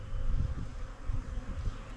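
Bees buzzing around an open hive during hive work, a dense continuous drone that swells and dips, close and steady with no voices.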